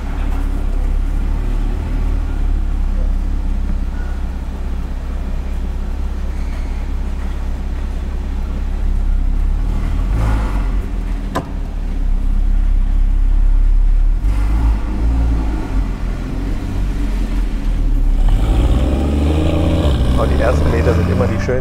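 A Porsche 981 Boxster GTS engine running, a steady low rumble that swells into louder revving near the end, heard close up while someone talks over much of it.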